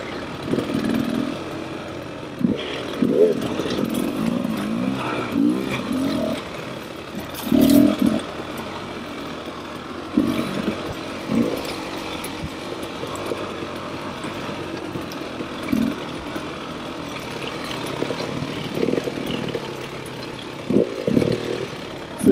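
Several two-stroke and four-stroke dirt bikes, a Beta 300 RR Race Edition, a KTM 300 XCW and a KX250, ride through mines and meadows, their engines buzzing and revving up and down continuously with sharp throttle bursts close by.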